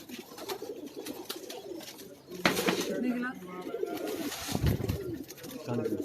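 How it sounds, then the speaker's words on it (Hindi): Soft coos from a Teddy-breed pigeon sound beneath nearby talking on a rooftop, with some rustling and background noise. "बहुत अच्छा कबूतर है वो"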